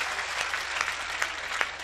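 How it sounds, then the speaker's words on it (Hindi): Audience applause at a Hindi comic poetry recital, dense clapping held at a steady moderate level throughout the short stretch, with no one speaking over it. "मेरे स्वागत में दोबारा जोरदार तालियां बजाएं"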